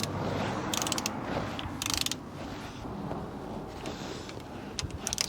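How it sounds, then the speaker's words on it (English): Torque wrench tightening gearbox sump bolts on a Rover Coupe CVT, set to about 12 newton metres, with bursts of rapid ratchet clicking between quieter turning and handling noise, close and moderately loud. "torque wrench, about 12 Newton meters, not too much, just keep going round."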